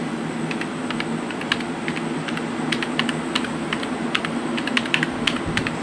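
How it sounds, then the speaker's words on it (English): Someone types with one hand on an iMac G3 keyboard, producing light, uneven clusters of plastic key clicks over a steady computer fan hum. "Typing with one hand is fun."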